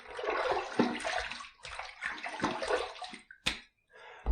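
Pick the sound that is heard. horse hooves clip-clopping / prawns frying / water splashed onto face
water splashed onto face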